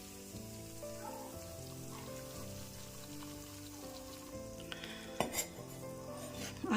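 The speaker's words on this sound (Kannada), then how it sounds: "ಸ್ವಲ್ಪನೂ ಕೈ ಬಿಡದೇನೆ ಒಂದೇ ಸಮನೆ ಈ ರೀತಿ ತುಪ್ಪದಲ್ಲಿ ಹುರ್ಕೋಬೇಕಾಗತ್ತೆ" Finger millet flour being roasted in ghee over a low flame, with a soft continuous sizzle and a quiet scraping of constant stirring, a few sharper clinks near the end.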